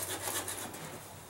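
Sandpaper scuffing a cracked plastic gas tank to rough the surface, a short faint rasping rub.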